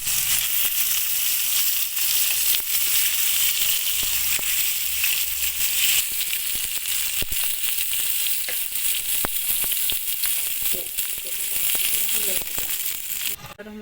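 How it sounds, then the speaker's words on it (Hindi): Tomatoes roast for chutney in a hot pan, giving a loud, steady sizzle and crackle close up, with occasional clinks and stirring sounds throughout. "टमाटर हमारे रोस्ट हो चुके हैं।"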